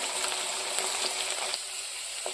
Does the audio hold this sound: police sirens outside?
no